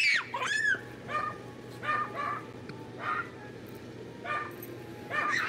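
A neighbor's dog barks over and over outdoors during a Christmas yard display setup, its repeated yelping barks somewhat distant and coming every second or so, with no talking.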